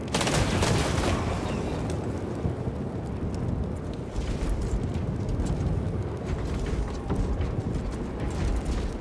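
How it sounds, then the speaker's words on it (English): A firing squad's rifle volley in Warhammer 40K Space Marine 2, heard as a dense, loud wash of gunfire and mechanical clatter filling the whole stretch, with sharp cracks near the start. "Squad! Ready! Aim! Fire!"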